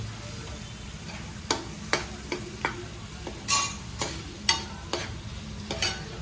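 Crab masala with onion and Kashmiri chili powder fries in a pan, a faint sizzle under sharp, irregular spatula taps and scrapes repeating every second or so.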